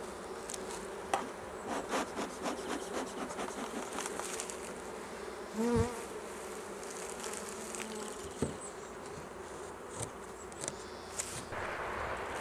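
Honey bees buzz steadily around an open hive during a spring inspection, a continuous close insect drone with a few brief louder passes and soft handling knocks, no voices.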